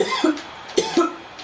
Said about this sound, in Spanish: Y hasta me hizo toser el imbécil.